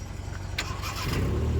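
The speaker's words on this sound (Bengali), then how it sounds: "নিউট্রাল করো আর স্টার্ট করো" During a driving lesson a car engine cranks and catches, with a brief starter whirr followed by a low steady idle rumble, close and moderately loud.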